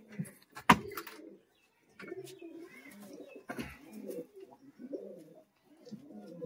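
Giribaj pigeons coo in a series of low, throaty bursts at close range, with a sharp tap near the start and short pauses between calls.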